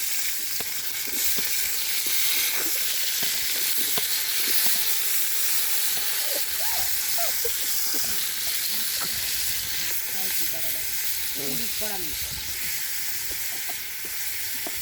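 Onions and green chillies fry in a pot for chicken biryani, a loud continuous sizzle close by, broken by repeated scraping and clinking strokes of a spoon stirring through the mix.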